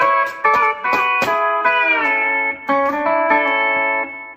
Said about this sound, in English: I built myself one of those Fender 400 patches in my amp as well.